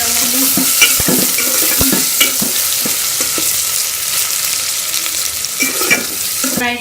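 Onions and garlic-ginger paste fry in a karahi, a steady loud sizzle broken by repeated scraping and clacking stirs of a spoon against the metal pan, with no voices.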